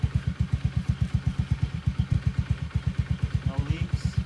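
A Honda Scoopy scooter engine idles close by with a steady, rapid, even putter. A brief human sound cuts in near the end.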